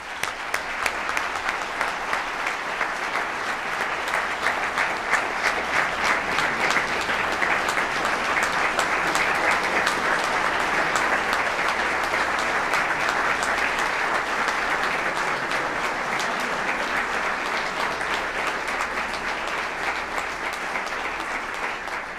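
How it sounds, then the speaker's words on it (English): Warm, sustained applause rises from the room at a special city council meeting installing officers, steady and full throughout with no talk over it. "let's give them a warm applause"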